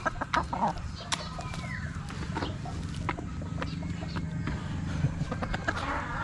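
Gamefowl chickens and a young gray stag rooster being raised on wet feed cluck in short, repeated bursts over a steady low farmyard rumble, close to the microphone.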